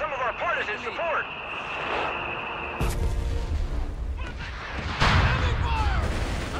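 Mortar and artillery fire in Company of Heroes 3, with heavy booming blasts breaking in abruptly over crackling battlefield noise while soldiers' voices shout over the radio.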